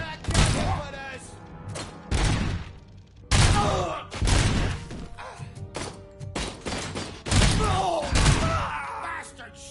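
Gunfire in the video game Robocop: Rogue City, loud bursts of shots and heavy impacts in uneven clusters, mixed with voices shouting and groaning.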